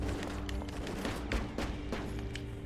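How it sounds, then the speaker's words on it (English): In the indie game West of Dead, shotgun blasts crack out in a rapid, dense cluster of loud bursts. They play over a sustained musical drone with no pause between shots. "we'll definitely try out the shotgun"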